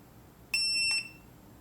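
A Retekess T112 wireless pager gives two quick, shrill electronic beeps in close succession, loud and nearby against near silence.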